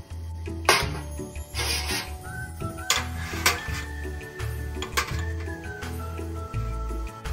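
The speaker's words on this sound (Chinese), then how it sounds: "水开，放入蒸格，将芋丝肉丸生坯放入" A metal steamer rack and raw taro-shred meatballs go into a pot of boiling water, with several clinks and clatters of metal over a low, steady boil.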